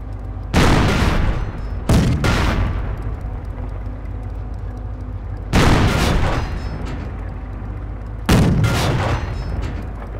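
Tank cannon fire and shell hits against a Panzer in Company of Heroes, four heavy booming blasts spaced a few seconds apart, each with a long rumbling decay over a low mechanical drone.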